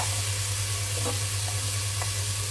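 Onions sizzle steadily in a hot pan, a dense continuous frying hiss with a low hum beneath and a few faint clinks.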